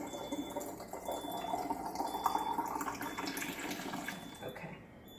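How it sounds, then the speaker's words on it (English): Water streams from a Kangen water ionizer machine into a bottle, a steady close splashing flow with a faint high tone running beneath it, continuous and unbroken throughout. "you see how the water's spiraling out?"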